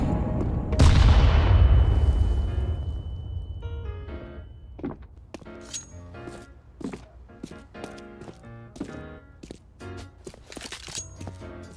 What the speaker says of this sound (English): I'm throwing a grenade! Grenade out!